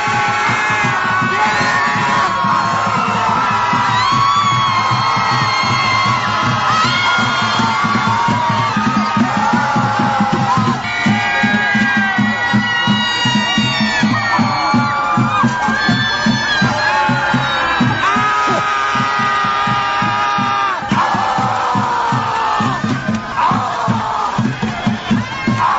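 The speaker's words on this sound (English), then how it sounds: "These insane Trump haters gather to literally scream at the sky." A large protest crowd in Washington Square Park screams and yells together in sustained, overlapping waves of loud, raw voices for the whole stretch.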